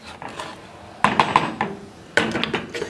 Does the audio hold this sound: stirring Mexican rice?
yes